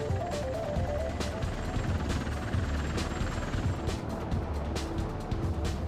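A US Marine Corps V-22 Osprey tiltrotor aircraft in flight gives off a steady, loud rotor drone with a faint rhythmic thrum. The noise is continuous, with no voices over it.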